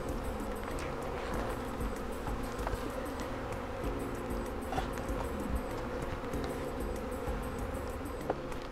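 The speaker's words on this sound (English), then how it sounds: "So the bees that are flying around, the little residual, they may land there." Bees buzz steadily around a hive box after a swarm capture from blackberry bushes outdoors, a continuous close insect drone with scattered faint clicks and no talking.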